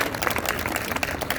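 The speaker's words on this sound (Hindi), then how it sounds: "हॉकी और फुटबॉल के लिए भरपूर तालियां बजा रहा हूं" A crowd at a sports board opening ceremony in Jhelum applauds in a short, dense, moderately distant burst of steady clapping with a low background hum.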